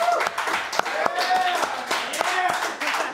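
An audience at a hackathon claps and cheers, brisk overlapping hand claps with raised voices and whoops throughout.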